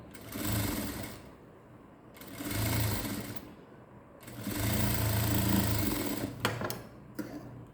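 A sewing machine hems a close-neck blouse in three sustained runs of fast stitching, separated by short pauses, then a few brief clicks and taps, close up with no talk.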